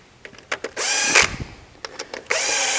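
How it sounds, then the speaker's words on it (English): Bolts on a conveyor metal detector mount being tightened with a power tool: short ticking clicks, then two sustained whirring bursts of driving, close and loud, without speech. "I'm going to tighten up my bolts"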